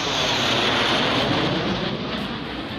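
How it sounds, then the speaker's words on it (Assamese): Roaring engine noise from military fighter jets and helicopters at an emergency landing facility on a highway bypass, a loud, steady broadband rush that swells and holds throughout with no voices. "মৰাণ বাইপাছৰ ইমাৰ্জেঞ্চি লেণ্ডিং ফেচিলিটিত উঠিছে নামিছে ইখনৰ পিছত সিখন যুঁজাৰু বিমান আৰু হেলিকপ্টাৰ"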